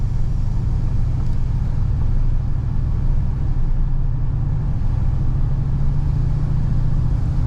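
A Silverado pickup with a swapped 4L80e automatic transmission drives down the road while the gearbox hunts for a missing third gear, giving a steady, loud low engine and road rumble with no clear shift events.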